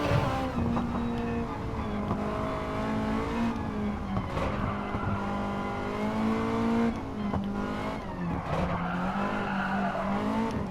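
Race car engine in Gran Turismo 7 held at high revs near the rev limiter, a loud, steady droning whine with rich harmonics that dips and recovers briefly a few times, with no talking.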